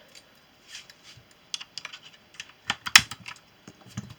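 Typing on a 60% gaming keyboard with red switches, the CA-150, gives scattered soft key clicks that come in uneven bursts and grow denser and louder midway. It sounds close and quiet with no voices.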